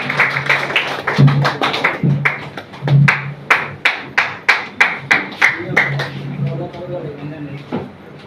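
An audience at a speech event in Nallasopara, Mumbai claps to welcome a guest to the stage: sharp, evenly spaced claps in a slow rhythm, close and fairly loud, with voices talking before and after.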